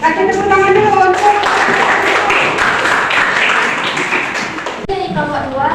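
An audience applauds at a university teacher-training group presentation in Riau, Indonesia; dense, steady clapping fills the room loudly for several seconds before tapering, with voices audible at the start and end.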